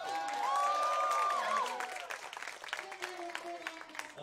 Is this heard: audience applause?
yes